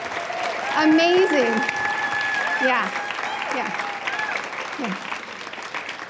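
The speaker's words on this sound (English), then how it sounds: "Can we give her a round of applause?" Audience applause fills a hall at an art-focused event about honoring bodies and fat disorders, a steady broadband clapping that swells near the start and carries on under a few spoken words throughout.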